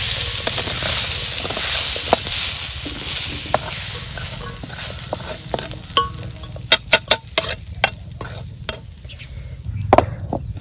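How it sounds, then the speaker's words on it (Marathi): Shengsola, a festival dish, is sautéed in a pan, producing a steady sizzle with scraping and stirring, and sharp clacks of a utensil against the pan that come more often toward the end. "आता ह्याच पद्धतीने का नाही राहिलेला आपल्याला सगळा शेंगसोला ना परतून घ्यायचा."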